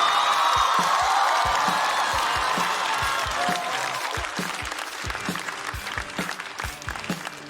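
Loud applause from a stand-up comedy audience greets Xiamen comedian Wu Kewei, with scattered whoops. The dense clapping fades gradually and thins into distinct individual claps by the end.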